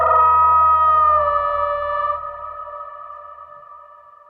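Cinematic signature sound design in a Jurassic World style, without particle layers: a bright, sustained harmonic tone with sub-bass underneath that holds steady, then thins and fades away over about four seconds.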